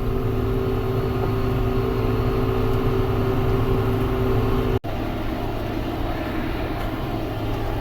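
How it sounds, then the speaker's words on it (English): A John Deere 7410 tractor engine runs steadily while driving, a loud, constant low diesel drone with a brief dropout partway through, and no speech. "I'm gonna go ahead and get this tractor up the driveway and up to the house"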